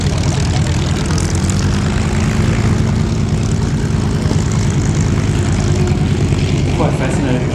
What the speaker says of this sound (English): Quite fascinating, Ando, watching everyone come back in and it's a continuous stream of aircraft.